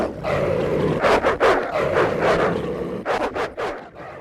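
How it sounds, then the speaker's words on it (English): Large dog barking and snarling viciously in repeated sharp bursts, close and loud, with growling between the barks and no voices. "a sudden outburst of vicious barking and"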